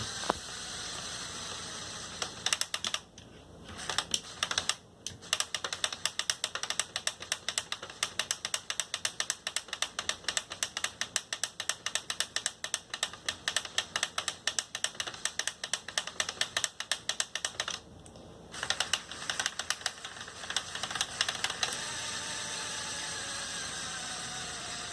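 Rapid plastic clicking and ratcheting from a Lego Technic 1984 Ford F-350 truck's mechanism, running in long bursts with brief pauses, over a steady whirring motor hum.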